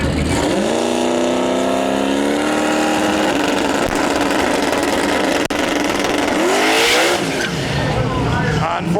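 A drag race car at a street car event launches with a loud revving engine as its tires spin and lose grip, with a rising roar up close and a voice talking over it.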